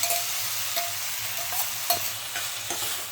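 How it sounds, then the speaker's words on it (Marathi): Tomatoes sizzle in a pan of spiced paneer makhanwala masala while being stirred, giving a steady hiss broken by regular scraping strokes of a spoon, close by and with no talking. "आता टोमॅटो ॲड करूया त्यामध्ये।"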